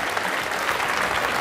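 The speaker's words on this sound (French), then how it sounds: "je vous demanderai d'applaudir Norbert" An audience at a Swiss food fair cooking stage applauds chef Norbert with dense, steady clapping in a short continuous burst.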